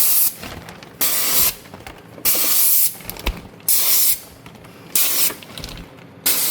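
A water spray cleans the heat exchanger of a system air conditioner in short bursts, loud hissing jets of about a second each switching on and off six times, with brief quieter gaps between.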